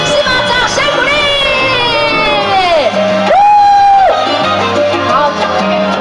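A crowd cheers and whoops loudly at a press event after actress Mo Yunwen struggles out of a water tank, with shrill rising shouts above a steady din and no speech.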